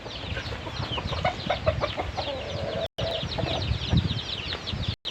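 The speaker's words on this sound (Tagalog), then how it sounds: "Medyo dumadami yung alagang manok dito sa farm." Clucking chickens on a farm where the flock of hens and chicks is growing, a steady chorus of overlapping clucks and chirps with a few louder calls, continuous through the clip apart from two brief cuts.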